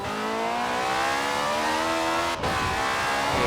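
BMW i8 hybrid supercar in Forza Horizon 4 revving hard, a sustained high-pitched engine whine with steady harmonics, loud and close, a brief dip near the end before it continues.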